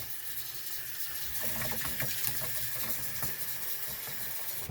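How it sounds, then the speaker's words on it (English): Glass canning jars washed under a running tap: a steady wash of flowing, splashing water with faint clinks and rattles of glass mixed in, close and continuous with a low background rumble. "So I will just go through and wash these jars real quick."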